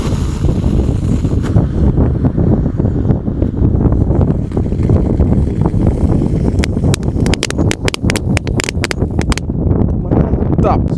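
Strong outdoor wind roars steadily into the microphone for the full stretch, buffeting loudly with some rustling and crackle near the end.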